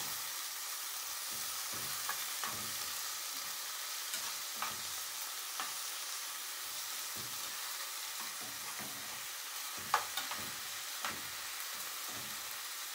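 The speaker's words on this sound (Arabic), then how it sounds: "هنحط البصل، نحط الفلفل مع البصل" Onion and peppers fry in a pan and are stirred together, giving a soft constant sizzle broken by scraping strokes of the spoon, close and quiet, with no talking.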